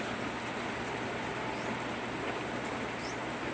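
Rain falls steadily outdoors as a continuous soft hiss, faint and even throughout with no voices.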